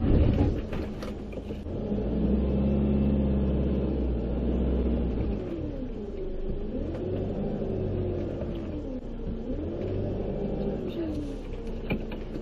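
A camper van's engine revs hard and strains in low, rumbling surges, with rising and falling pitch as it tries to pull its rear wheels out of a roadside ditch in Turkey; the engine is loud and steady throughout.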